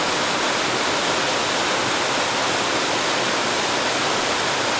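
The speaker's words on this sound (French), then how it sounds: "on se retrouve avec Naya, c'est la première cascade qu'il y a ici" A river waterfall, the Cascade du Petit Crouzet at Mazet-Saint-Voy, gives a steady, dense roar of falling water that fills the whole stretch, with no voices over it.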